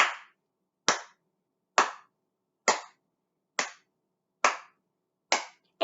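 Single hand claps in a steady quarter-note rhythm, about one sharp, crisp clap every 0.9 seconds, close and alone with short decays and silence between them, eight in all.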